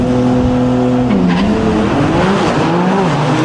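Porsche drag race cars, a yellow number 49 and a silver one, launch off the starting line at a drag racing world cup event. A loud engine roar holds high, then drops in pitch, with a brief tire squeal.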